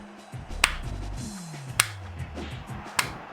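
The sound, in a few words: people clapping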